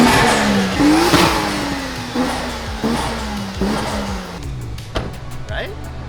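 A drift daily car's engine revs up and down in a harsh, rising and falling growl, close and loud, with brief blips toward the end and a voice speaking over it.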